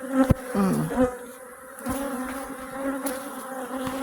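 Bees buzz around the entrance of a wooden hive box outdoors, a steady close drone with individual insects whining past in rising and falling pitch.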